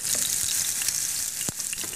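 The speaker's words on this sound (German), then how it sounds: "Die Aubergine portionenweise im Olivenöl beidseitig anbraten." Aubergine slices fry in olive oil in a pan, giving a close, steady crackling sizzle with a few sharper pops.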